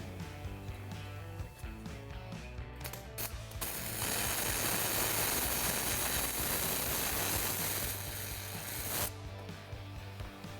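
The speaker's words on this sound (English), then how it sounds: "All right, gonna weld this section in here and let's see." A section of metal is welded, a dense, crackling burst lasting about five seconds over a steady mechanical hum, close and moderately loud.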